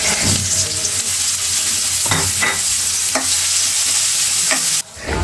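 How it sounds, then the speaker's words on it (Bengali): Onion, crushed garlic and green chili frying in hot oil in a wok give a steady, close sizzle, broken by a few sharp scrapes and clinks of stirring before the sound drops away at the end. "কড়াই গরম হলে তার মধ্যে দিয়ে দিয়েছি তেল পেঁয়াজ দিয়েছি রসুন থেতু আর হচ্ছে কাঁচামরিচ"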